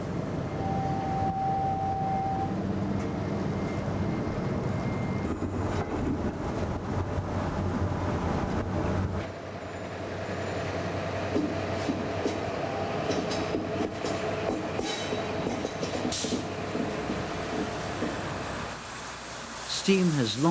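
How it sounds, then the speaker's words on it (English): Thomas Hill diesel hydraulic shunting locomotives at work in a quarry, a steady heavy rumble of engines and rolling wagons with rattles and a brief high squeal, continuous and close, over a voice. "For its quarry shunting operations at Whately, Amalgamated Roadstone employs 3 diesel hydraulic locomotives, all built by Thomas Hill of Rotherham."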